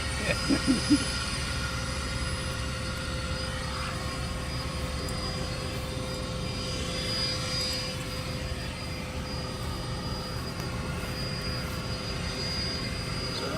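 Engines of the Avro Vulcan XL426 jet bomber during a taxi run give a steady, distant roar with a sustained whine, and a few faint thumps come early on.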